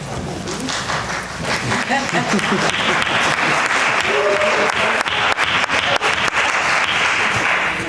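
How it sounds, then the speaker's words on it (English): Sustained applause from the audience at a board of education meeting fills the room, loud and steady for several seconds with dense clapping throughout. "I'm not sure if the applause is for Mr. Kane or for the rest of us."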